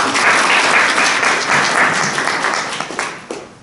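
A seminar audience applauding to welcome a speaker, dense steady clapping from many hands filling the room and tapering off toward the end.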